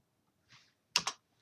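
A soft single tap on a computer keyboard is followed by two quick, crisp keystrokes, close and quiet, as a page number is typed in.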